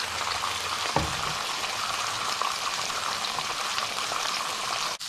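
A burger patty fries in a pan with a steady, loud, dense sizzle throughout, broken by a brief clunk near the start and a short knock at the end, with no voices.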